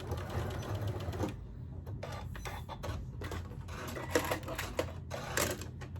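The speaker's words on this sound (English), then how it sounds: "I will just hold this in place as I stitch over it." Sewing machine stitching over a zippered lining for a cross body bag, rapid mechanical rattling bursts with brief pauses between runs, close and moderately loud.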